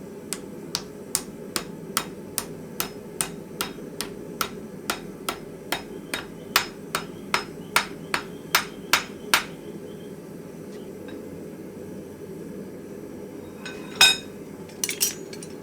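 Sharp metallic hammer blows drive a chisel through metal clamped in a post vise, about twenty evenly paced ringing strikes, then a pause and a few louder irregular knocks near the end.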